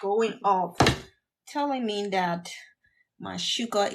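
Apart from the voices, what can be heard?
No everyday noises stand out.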